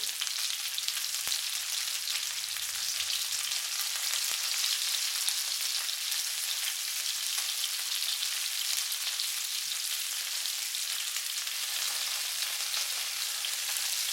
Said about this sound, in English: Stir around the beef. Try to brown up the beef.